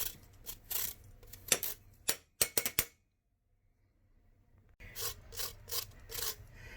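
A lime is zested on a fine grater for Mexican street corn, giving quick raspy scraping strokes in bursts, a pause of near silence, then more rhythmic rasping close up.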